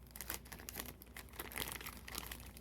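A plastic baggie holding X-Men Mutant Insurrection game cards crinkles close up in quick, irregular rustles throughout, with no talking.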